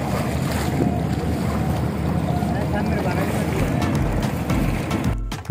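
A river boat at Sadarghat in Dhaka runs steadily on the Buriganga, its engine rumble blended with loud wind buffeting the microphone for several seconds.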